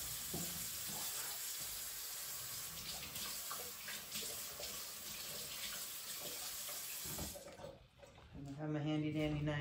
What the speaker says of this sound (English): I'm going to wash the whole lemon.